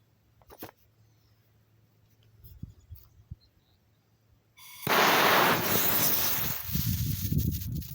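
Cooked KNO3 rocket fuel ignites after a few faint clicks and pops, then bursts into a loud, roaring hiss that burns steadily for several seconds, close by.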